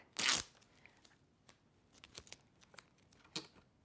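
Tape is torn from a roll to fix a cardboard pizza box made into an easel, one sharp faint rip followed by scattered small crinkles and crackles, quiet and close.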